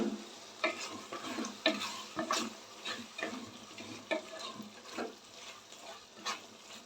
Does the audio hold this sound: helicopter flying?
no